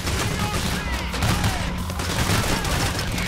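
Continuous heavy gunfire rattles through a Payday: The Heist shootout, loud overlapping bursts layered with dense clatter and thumps that keep up for the whole stretch.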